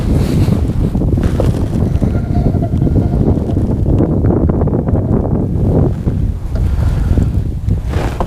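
Steady wind blowing over open water from a fishing boat, loud and continuous with gusty buffeting on the microphone throughout, no talk.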